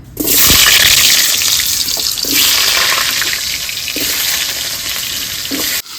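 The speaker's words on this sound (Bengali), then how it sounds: "তেল গরম হয়ে গেছে আলুগুলো ভেজে নেব" Potatoes fry in hot oil for a village-style fish dish, giving a loud, steady, dense sizzle with a few soft stirring knocks, up close and without talk.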